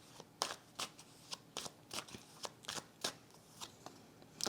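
Tarot cards being handled and turned over, a dozen short crisp flicks and slaps in an irregular rhythm, close and fairly quiet with no talk.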